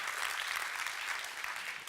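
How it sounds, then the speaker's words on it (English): An audience applauds Dylan after a talk on positive influence, a dense, even wash of clapping that holds steady from start to finish, with no voice over it. "A big round of applause for Dylan."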